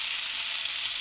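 Chicken frying in oil in a pan during a curry cooking contest, a dense steady sizzle that runs loud and unbroken throughout with no voices over it.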